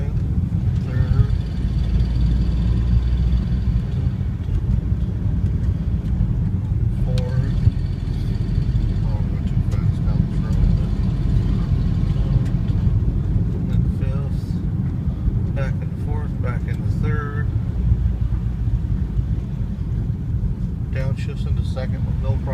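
An Austin Metro car on the move, its steady low engine drone and road rumble running continuously and fairly loud, with no clear gear-change breaks standing out.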